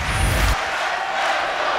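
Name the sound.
volleyball crowd of 3,500 cheering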